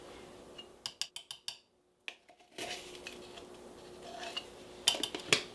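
A half-teaspoon measuring spoon clinks and scrapes against a bowl as baking powder is scooped in for a keto orange creamsicle poke cake, a quick run of light metallic taps, a brief pause, then more clatter and scraping.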